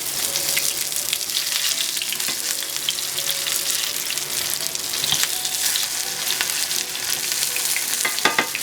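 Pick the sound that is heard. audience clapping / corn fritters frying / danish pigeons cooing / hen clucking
corn fritters frying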